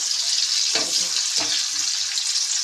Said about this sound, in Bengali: কড়াইতে আমি রসুনও দিয়ে দিয়েছি